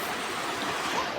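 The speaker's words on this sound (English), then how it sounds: "We have our river here." River water flows steadily along a nature walk near the Sosian river, a dense continuous rushing wash with no talking, close and fairly loud throughout.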